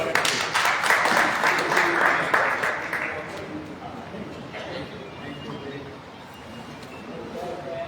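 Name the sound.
applause welcoming the speaker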